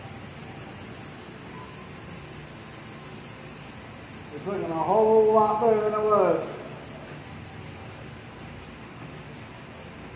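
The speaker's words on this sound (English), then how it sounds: "We'll just go through sand this whole thing." Hand sanding with 220-grit sandpaper on a 1984 GT Pro Series BMX part, a soft continuous rubbing hiss under a man's speech, with a louder burst of scratchy strokes midway.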